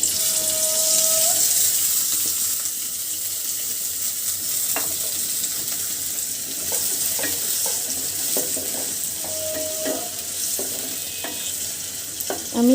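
Sliced green chillies and oil sizzle in a pan for a fish curry, a continuous close hiss broken by scraping stirs and occasional pops, with no voices.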